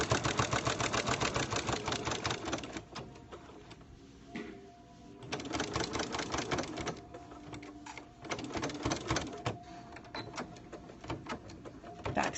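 Close-up sewing machine back stitching cloth pads, with quick bursts of rapid stitching broken by short pauses and direction changes.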